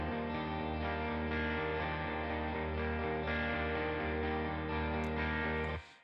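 Three layered, heavily distorted electric guitar tracks play a dense rhythm part together in a rock song, loud and sustained throughout before cutting off abruptly at the end.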